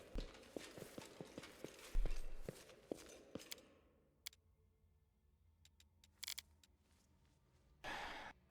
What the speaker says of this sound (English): I gotta wait for the horse now